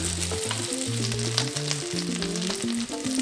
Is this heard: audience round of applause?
no